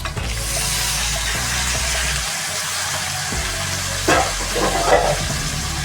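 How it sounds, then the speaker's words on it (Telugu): A pan of frying brinjal sizzles steadily as chopped tomatoes are added, with a few soft thuds and scraping stirs toward the end over the constant hiss. "వంకాయ ఉది కొంచెం ఉడికింది ఇప్పుడు కట్ చేసిన టమోటాలని వేసుకోవాలి"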